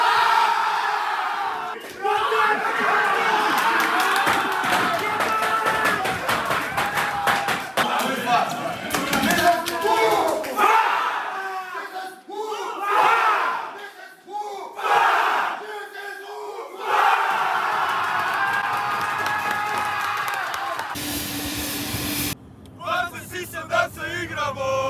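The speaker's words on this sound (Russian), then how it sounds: "Болельщики встречают нас в аэропорту." Football fans crowd an airport arrival hall to greet their returning team after an away win in Kazan, a loud, dense wall of cheering, chanting and shouts that swells and dips throughout with voices mixed in.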